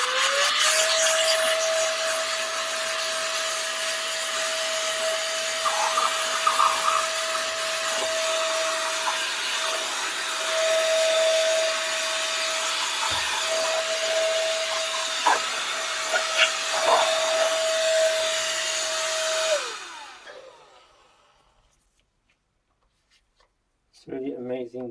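A vacuum cleaner with a brush attachment sucking dirt out of a desktop PC case, a steady loud hissing roar with a constant whine that runs for about twenty seconds, then cuts off, with a voice briefly at the end.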